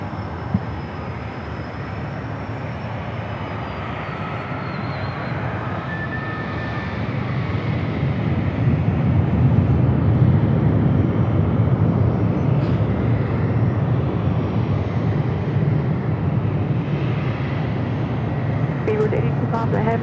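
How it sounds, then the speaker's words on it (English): Turbines on a heavy Boeing 777 at San Diego airport give a broad jet roar that builds midway and stays loud, with a faint high whine early on. "Turbines on the Heavy Boeing 777"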